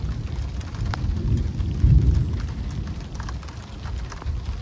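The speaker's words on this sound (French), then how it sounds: "on contemple un petit peu l'orage avec enfin des coups de tonnerre" Thunder rolls during a storm in Normandy, a low rumble under steady rain that swells to a louder peak midway and then fades back into a continuous distant grumble.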